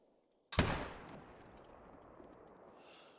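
A single sharp rifle shot from a Malmer rifle fitted with an Odin scope in the hunting game Call of the Wild, with a sudden loud crack followed by a long rolling echo that fades over about two and a half seconds.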